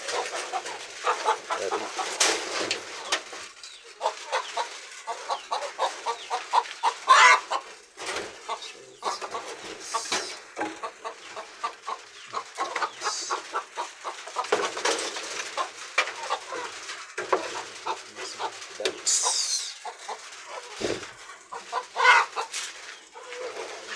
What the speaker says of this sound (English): Chicken are wondering what is happening.